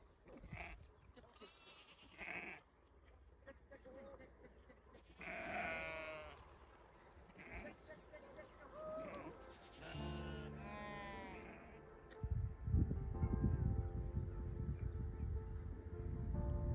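Goats at a shepherd's homestead bleat several times, near and clear, with a few scattered calls before a louder stretch of rough, broad background noise takes over near the end.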